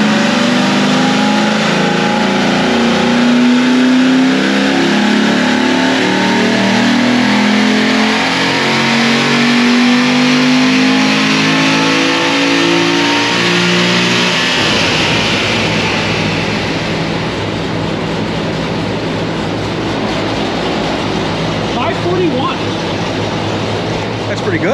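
A Corvette C7 naturally aspirated V8 revs hard through a cold dyno pull after air-fuel tuning, a loud rising engine roar that climbs steadily, then shifts character partway through and holds a high, strained drone to the end.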